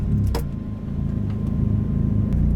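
A Mazda Miata engine runs at a steady idle right after starting, a close, continuous low rumble with a brief rattle near the start.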